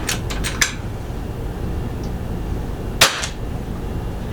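Brocock XR Sniper air rifle firing: several sharp cracks in quick succession near the start, then one more loud shot about three seconds later, close up over a steady low background hum.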